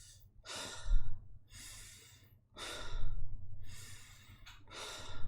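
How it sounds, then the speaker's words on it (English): Slow, deep breaths taken close to the microphone, with four long inhale-and-exhale cycles standing out over a low steady hum. "take 3 deep breaths"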